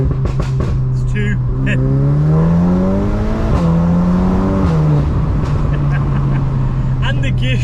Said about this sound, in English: the gear shifts sound insane. They're like just constant blips